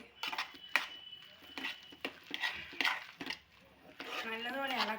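Cooked jackfruit stirred in a pot, with a spoon repeatedly clinking and scraping against the metal in an uneven rhythm, close by, while a voice talks briefly near the end.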